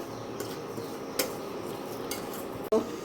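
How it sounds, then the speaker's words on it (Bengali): Semolina and oats dry-roasting in a pan, heard as soft scraping and stirring with a few clinks of a utensil against the pan and a sharper knock near the end. "ওটস নিলাম, এই সুজির সঙ্গে একসঙ্গে ভেজে নেব, শুকনো এইভাবে একটু হালকা করে একটু ভেজে নেব"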